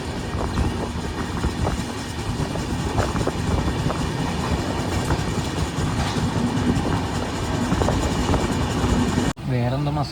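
A train rolls along the Konkan Railway toward Roha in Maharashtra, its steady rumble and clattering wheels loud and continuous throughout, with a brief change in the noise near the end.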